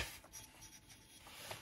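Chalk or marker writing on a classroom board during a math lesson on exponential functions, with short scratchy strokes at close range over a faint room background.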